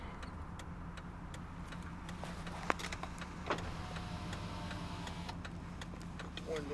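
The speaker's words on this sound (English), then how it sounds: "Window up a little bit" The power window of a Ford F250 Super Duty pickup hums faintly as it rolls up during a drive, beneath a steady rumble of engine and road noise.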